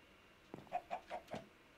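Chickens in the Minecraft video game give four quick, quiet clucks in a short run, alone and with no talk.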